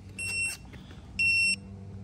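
A Wheelator hybrid rollator walker wheelchair sounds its fall alert: two shrill electronic beeps, close and clear, each lasting about a third of a second, over a low background hum.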